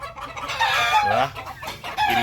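Roosters crowing and hens clucking close by on a farm, loud overlapping calls in quick bursts with no talk over them.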